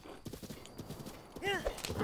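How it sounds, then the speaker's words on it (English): A horse's hooves clip-clop in Zelda: Breath of the Wild on Hyrule Ridge, a quick run of soft hoofbeats, with a brief whinny-like cry near the end and a voice talking over it. "I'm also going to call my horse because it's really far away."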